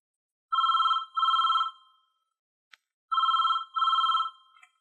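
Telephone bell ringing in two paired bursts, each double ring loud and clear, separated by about a second of silence, with a brief click in between; no talking.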